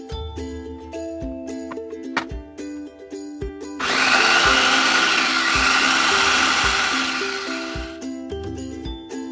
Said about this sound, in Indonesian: Kita mau blender lagi.